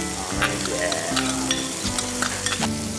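Red wine sauce sizzles and fries in a hot pan while being stirred with a spoon, a steady close crackle with scraping strokes and background music, no talk.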